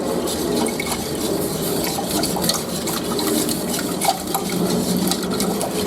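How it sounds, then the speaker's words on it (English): Continuous scraping and light clinking of a utensil stirring lemon juice, water and milk in a pot on the stove for lemon meringue pie filling, with a soft bubbling, watery texture underneath. "You want to keep on stirring it to prevent lumps."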